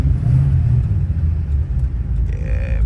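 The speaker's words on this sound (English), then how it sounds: "this car is all on the road trying to get in here" Car engine rumbling at a night car meet, a deep steady low drone that holds loud and close throughout, with no talk over it.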